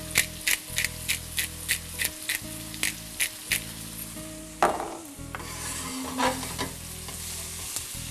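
Onions and garlic sizzling in a pan, with a regular run of spoon strokes in the first seconds, then a denser steady sizzle and occasional scrapes, close and moderately loud with no talking.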